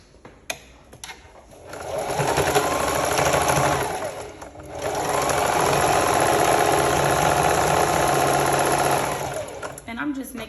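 Sewing machine running a straight stitch while an oversized shirt is turned into a dress, two long steady runs of close, loud motor buzz separated by a short pause, with faint handling noises before and after.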